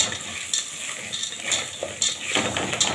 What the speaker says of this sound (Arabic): ونقلب كل ده في بعض كده